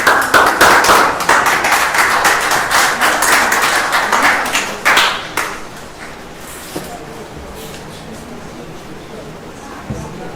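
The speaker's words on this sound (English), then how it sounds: "So a round of applause for Fareed Patel." Audience at a poetry reading during a fundraiser and art show claps for a poet, a loud dense round of applause that thins out and fades to near silence after about five seconds.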